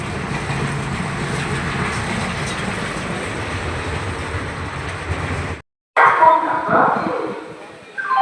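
An express train runs at night with a loud, steady rolling rumble that cuts off abruptly, then returns as a louder, rougher burst of clatter and noise.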